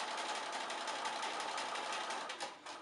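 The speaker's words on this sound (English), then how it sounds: "you want your machine to be okay with going through all those layers" A sewing machine stitches through thick layers of towel for an apron, giving a steady, close, fast mechanical whirring hum with a brief dip near the end.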